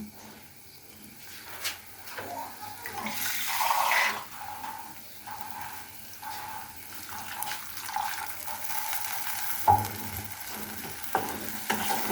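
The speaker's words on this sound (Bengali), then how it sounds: "এখানে দিয়ে দেব সামান্য পরিমাণ একটু পানি" A small splash of water goes into spices frying in a pan for a fish dopiaza, bringing a burst of sizzling and hissing, then stirring and scraping that continues at close range.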